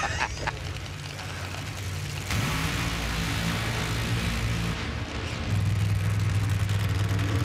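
Top Fuel Funny Car drag racing at the Sonoma Nationals in California in 2014, heard as a sustained, roaring engine wash from a distance that swells louder partway through, with no clear separate bursts.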